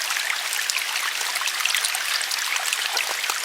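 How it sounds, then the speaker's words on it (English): Water trickles and gurgles steadily out of a flooded fish pond, a close, continuous running-stream sound with small splashy ripples and no voices. "water's coming out right there"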